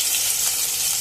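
Garlic cloves dropped into hot oil in a pan give a continuous, bright, hissing sizzle, close and even throughout the short moment, with no talking.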